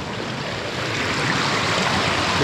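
A river rushes hard, loud and steady, as water pours through a breached beaver dam, its broadband roar swelling slightly over a couple of seconds with no voices.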